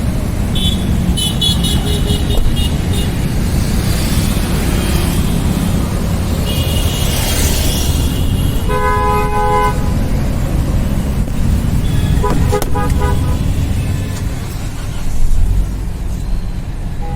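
A car rolls along Tonk Road toward Tonk in Rajasthan, with steady road and engine noise throughout and a few clear horn toots from traffic partway through.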